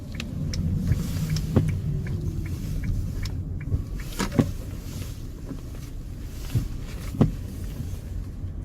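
Car rolling up to a self-service car wash in Kiełpino, a steady low engine and road rumble close by with a few light knocks and clicks along the way.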